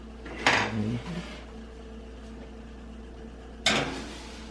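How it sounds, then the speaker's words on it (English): A tray of mini hot cross buns slides into a hot oven, making two distinct clattering knocks a few seconds apart against a quiet kitchen background. "let's get these babies in the oven"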